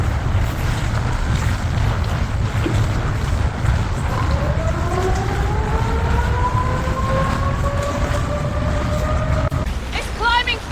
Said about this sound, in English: Sirens and a boat.